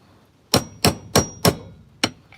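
Hammer tapping a bearing into the crankcase of a Stihl 026 chainsaw: five sharp metallic clanks, four in quick even succession and one after a short pause, close and distinct.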